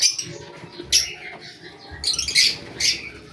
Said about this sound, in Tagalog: Ayan yung ating mga lovebirds